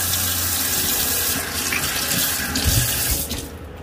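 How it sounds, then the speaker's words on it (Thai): Running tap water splashes steadily over cabbage being washed in a kitchen sink for kimchi, a continuous close rushing stream with faint handling noises near the end. "นี่เราก็เอามาล้างน้ำเนาะ"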